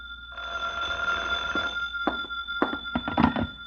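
In an old radio drama, a telephone bell rings in one sustained burst, then gives way to a few clicks and handling knocks as the receiver is picked up.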